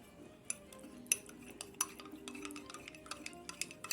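A spoon stirs cornstarch and water in a cup, giving a quick series of light metallic clinks and taps against the vessel, close and fairly quiet, with no talk.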